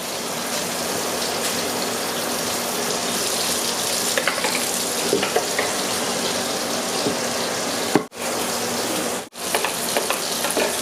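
Salmon pieces are rinsed under a running kitchen tap, giving a steady, close, loud rush of water that continues almost without a break, with two brief cutoffs near the end.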